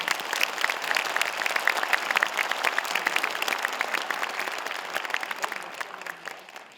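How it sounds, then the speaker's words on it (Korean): An audience at a year-end foundation gathering gives a steady round of applause, dense and moderately loud, tapering off over the final second. "힘찬 박수 부탁드리겠습니다"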